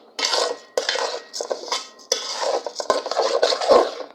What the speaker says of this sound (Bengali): চালটা ভেজে নিচ্ছি সব মশলা দিয়ে, আদা রসুন পেস্ট, গরম মশলা, এলাচ একসাথে দিয়ে ভেজে নিচ্ছি